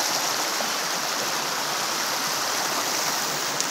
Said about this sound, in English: You can hear the water right here.